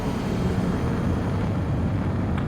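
Jet aircraft engine in Ace Combat 7 during an attempted landing, a steady loud low roar with broadband rumble that holds unbroken throughout.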